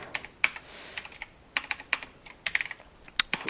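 Computer keyboard typing, close and fairly quiet, with irregular bursts of crisp key clicks and short pauses between them.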